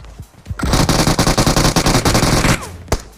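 Automatic gunfire in a battle royale video game, a loud rapid sustained burst lasting about two seconds, with a few single shots before and after.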